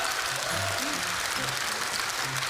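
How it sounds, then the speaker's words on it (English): A tech conference audience applauds in a vote, a steady wash of clapping across the whole span with scattered voices and calls mixed in beneath it. "By applause, how many people think that's worse?"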